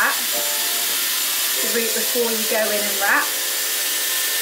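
A Dyson Airwrap with a 20mm long barrel blows a steady, broad airflow hiss throughout, close and constant beneath someone speaking over it.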